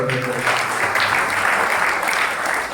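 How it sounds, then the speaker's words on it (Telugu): Congregation applauding during a Holy Mass for the First Advent Sunday at a church shrine: steady, dense clapping from many hands throughout, with a faint tonal voice or music underneath at the start. "మనం చప్పట్లు కొడుతూ వారికి కూడా"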